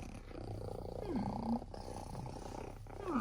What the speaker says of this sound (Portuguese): Gatinho. Tão bonitinho.